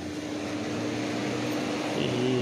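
A home air cooler's fan runs continuously, a steady whooshing airflow over a low motor hum, close and even throughout.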